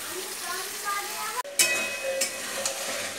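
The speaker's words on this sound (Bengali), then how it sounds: "এবার আমি মশলাটাকে ভালো করে কষে নেব, আস্তে আস্তে কষতে থাকি।" Ground spice masala with tomato and green chilli sautéing in a pan, a steady sizzle with clinks and scrapes of stirring, broken by one brief sharp knock midway.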